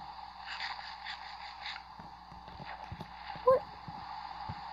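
Faint horse hoofbeats and snorting from a video game play softly under a continuous background hum, with a short louder sound near the end.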